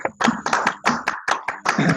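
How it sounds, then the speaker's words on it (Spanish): A burst of applause from a group, many hands clapping together in a dense, steady patter that rises and falls across the two seconds. "Un aplauso, por favor, para nuestros expositores y un aplauso para todos ustedes por estar presentes."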